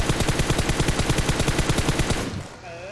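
Automatic gunfire in the battle royale game PUBG Mobile: a steady, evenly spaced stream of rapid shots, loud and close, running for a little over two seconds before cutting off into a brief fading tail.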